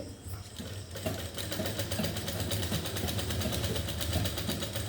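Sewing machine stitching a double seam on a shirt, a fast even mechanical chatter after a brief quiet start, running continuously at moderate volume with a low motor hum beneath.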